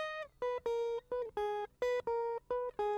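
The same guitar melody for an electronic remix, now distorted by a wave shaper, plays louder with brighter, buzzier harmonics, a string of short punchy notes in a choppy, uneven rhythm with no voices.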